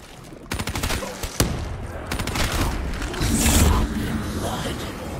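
A grenade blast in a shooter video game, set among rapid gunfire bursts with sharp impacts, a louder rumbling swell near the end, and a voice speaking underneath.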